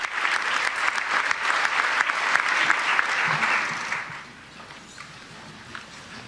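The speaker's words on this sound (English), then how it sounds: "you can see they are standing and applauding as she takes the podium" An audience at the United Nations stands and applauds, producing a dense, sustained wash of clapping from a large crowd that fills the hall, then tapers off to quiet near the end.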